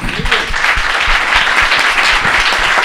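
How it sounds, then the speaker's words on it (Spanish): A lecture audience at UAM Cuajimalpa breaks into dense, sustained applause for Father Solalinde after his talk, loud, close and continuous throughout. "Un aplauso, sí."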